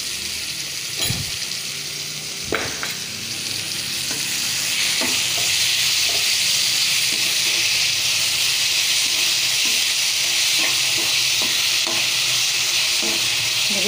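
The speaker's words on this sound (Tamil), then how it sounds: "அப்புறம் தக்காளி நல்லா வதங்குவோம்." Tomatoes sautéing in a pan for Tamil-style fish gravy give a steady broadband sizzle and hiss, with a few sharp stirring clinks early on, swelling louder and more constant after a few seconds, with no voices.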